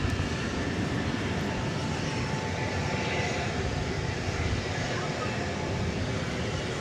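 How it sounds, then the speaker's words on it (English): Airbus A320neo airliner on flight 3211 to Los Angeles at DFW Airport at night, a steady broad engine roar holding level throughout, fairly close, with faint talk beneath. "This one's going to Los Angeles, flight 3211, going to Los Angeles, an Airbus A320neo."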